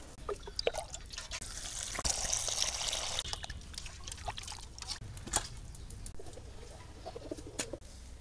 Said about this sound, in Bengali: মাছগুলো ধুইয়ে নেই